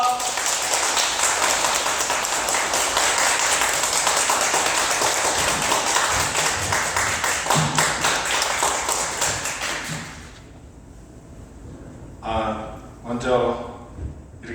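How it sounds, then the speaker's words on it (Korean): An audience applauds in a concert hall to welcome the narrator before a piano ensemble performance, a dense burst of clapping for about ten seconds that fades out, followed by a few short scattered claps. "우리 해설자님 큰 박수를 모시겠습니다"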